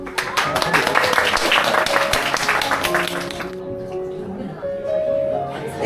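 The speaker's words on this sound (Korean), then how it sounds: "아이들 박수 보내주시기 바랍니다." An audience at a kindergarten graduation ceremony claps in welcome, a dense burst of applause for about three seconds that fades, followed by quieter room sound with a voice speaking.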